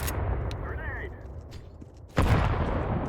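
Gunfire bursts from a decoy grenade in Counter-Strike 2, a fake weapon sound in the game, with a sharp, loud burst near the end over steady game noise.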